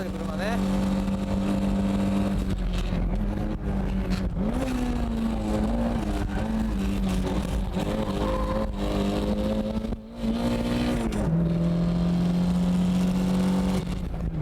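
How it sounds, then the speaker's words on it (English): A Toyota drift car under full throttle, its engine droning loud and steady with rising and falling pitch across gear changes and one brief dip, with a voice talking over it. "I'm flooring it"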